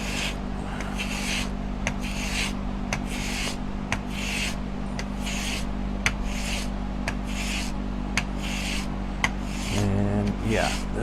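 Chisel bevel rubbed back and forth on a sharpening stone, a steady rhythmic rasping of about a dozen close strokes over a constant low hum, with brief talk near the end.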